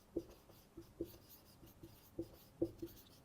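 Pen or chalk writing on a board during a classical mechanics physics lecture, a few short separate strokes and taps at an irregular rhythm, faint and close, with no talking.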